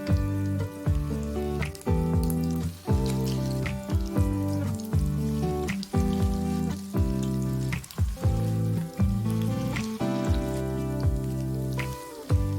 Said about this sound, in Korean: 팬에 식용유를 넣고 중약불로 가열하고 반죽을 숟가락으로 넣어줍니다